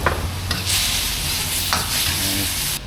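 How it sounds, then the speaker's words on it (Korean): Beef fried noodles being stir-fried in a restaurant wok give a loud, continuous sizzle and hiss, broken by a few sharp scrapes and tosses of the pan. "여기 지금 볶고 계시거든요."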